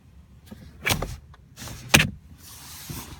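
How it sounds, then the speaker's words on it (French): Rear electric sun blinds in a 2018 BMW M5 cabin, two short motorized whirs with soft clunks as the blinds move, close and fairly quiet, no talk. "Donc à l'arrière, vous avez des pare-soleil ici."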